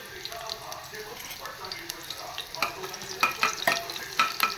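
Onion frying in a pan in a home kitchen, a soft sizzle with clicking, scraping stirs that grow busier and louder toward the end, with faint voices in the background.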